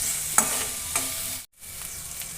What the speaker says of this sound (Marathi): कांदा छान गुलाबी कलर येईपर्यंत परतून घ्यायचा